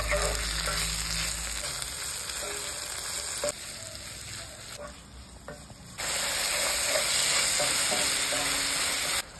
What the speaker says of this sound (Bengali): এবার টমেটো কুচি, রসুন বাটা, আদা বাটা দিয়ে ভালোভাবে কষিয়ে